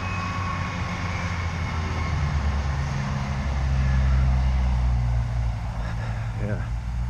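A train rumbles past with a deep, steady roar that swells in the middle and then eases off, with someone talking over it.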